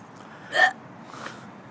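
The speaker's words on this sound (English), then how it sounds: "Mad hiccups." A single close hiccup, short and sharp, followed by a fainter breathy catch in an otherwise quiet room.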